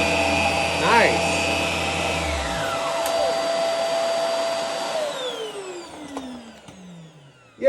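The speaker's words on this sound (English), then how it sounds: "It's a good full-size vacuum, long cord." A Hart stand-up vacuum cleaner whirs steadily at full power, then winds down with a falling whine as it is switched off, ending in a brief clunk.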